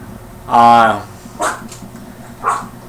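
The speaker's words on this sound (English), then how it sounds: "Hang on, Lucky's barking." A pet dog indoors gives one clear, fairly loud bark, followed by two fainter, shorter yelps a moment later.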